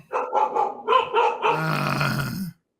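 Two dogs bark at a package delivery in a quick run of about five close, loud barks, then trail into a sustained growl before stopping abruptly.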